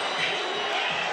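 BYU fans chant across Paulson Stadium at a football game, a dense, continuous roar of massed voices filling the whole moment with little variation in loudness.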